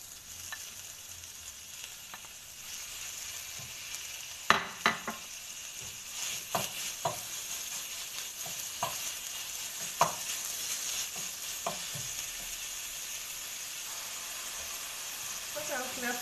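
Chicken kofta frying with chopped onion in a pan gives a steady, moderate sizzle, broken by a few sharp clicks and scrapes as it is stirred.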